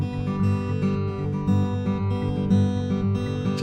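Fingerpicked acoustic guitar in a Travis-style pinch pattern with the last note filled in: a steady alternating bass under ringing treble notes, continuous and close, with no talking.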